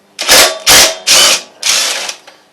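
Impact wrench loosening 12mm head bolts on a Honda Harmony engine, four loud close rattling bursts in quick succession, the last one longer and tapering off, with no voice.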